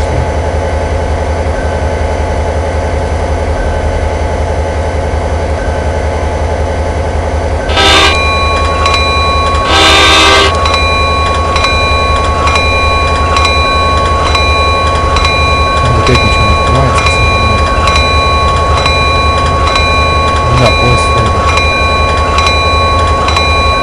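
A train in the Trains 2015 simulator game hums with a steady engine drone, broken by two short, loud horn toots close together early on, then rolling on alone without talk.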